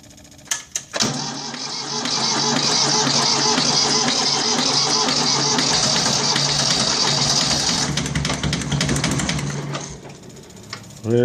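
Turning the key on a Kubota B8200 tractor with a fuel pump problem sets off a few clicks. A loud, steady electric buzz and whir from the fuel pump and glow plugs follows and runs for several seconds before cutting off.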